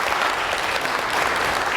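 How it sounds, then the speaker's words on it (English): A lecture audience applauds at a museum talk on famous shipwrecks, a steady dense wash of clapping filling the room at close range, with no voices rising above it. "Let's give Rick a round of applause."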